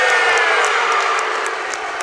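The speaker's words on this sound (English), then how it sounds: "Listen to this crowd." A packed high school basketball gym crowd roars and cheers in a loud, continuous wash of voices, with sharp whoops poking out now and then.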